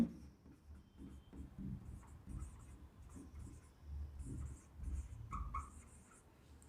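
Chalk or marker writing a barium chloride formula on a classroom board, a steady scratchy stroking sound running through most of the clip at moderate level with no speech.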